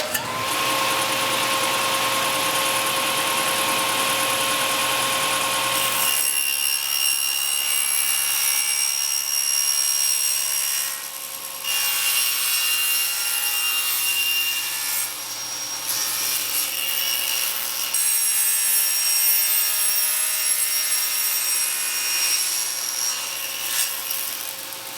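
Table saw with its blade tilted to 45 degrees, running steadily, then cutting wood on a crosscut sled: a continuous loud whine whose tone dips and roughens across several passes, alone with no talk.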